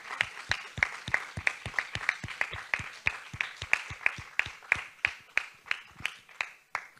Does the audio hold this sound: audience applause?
yes